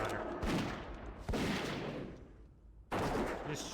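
Gunfire from a dwarf hunter's gun in World of Warcraft Classic, heard as a few loud, separate bursts spaced about a second apart, each fading out before the next.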